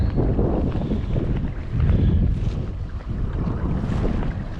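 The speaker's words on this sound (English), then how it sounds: "let me let these freaking boats go by" Loud, steady engine rumble of motorboats going by close on a small lake, mixed with wind buffeting the microphone and water noise, no talking.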